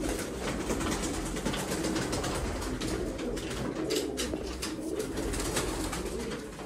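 Pigeons in a rooftop loft coo steadily and softly throughout, several birds layered into a continuous low murmur with a busy background hiss; no one speaks.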